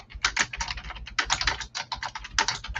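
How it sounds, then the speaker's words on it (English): Rapid clattering keystrokes on a computer keyboard come in quick bursts with brief pauses, loud and close, with no talking over them. "Sorry, Lisha, your keyboard is so distracting"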